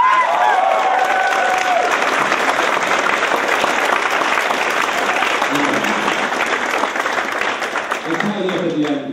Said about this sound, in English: round of applause for Julia.